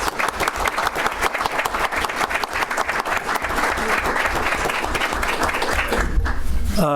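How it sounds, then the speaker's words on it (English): Sustained, loud applause from an audience at a candidates forum, dense clapping filling the room for several seconds after the selectman candidates finish, swelling slightly toward the end. "let's give a round of applause to our selectman candidates"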